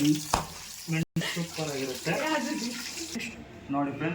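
Four or five green chillies fry in hot oil for chicken kebab, giving a soft sizzling hiss under a person talking close by.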